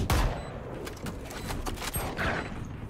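Several gunshots fired in the online shooter Valorant, sharp separate cracks spread across a few seconds at moderate level, with no voices in the clip.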